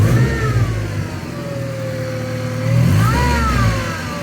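A supercharged Mazda MX-5 engine idles loudly up close, then revs up and down, its pitch rising and falling in a couple of swells with a whining tone over the exhaust rumble.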